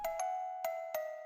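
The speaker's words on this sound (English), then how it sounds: "I added this Celestia." A celesta layer plays a sustained bell-like tone with a few soft, struck notes at steady intervals, faint and brief, alone with no talking.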